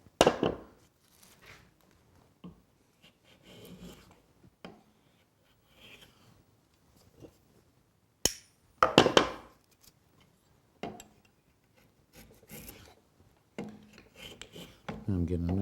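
A No. 140 skew block plane shaves wood in scattered rasping strokes, a few sharp and loud, others soft, separated by quiet pauses.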